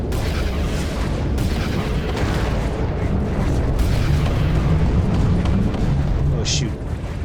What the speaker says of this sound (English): Launch missiles.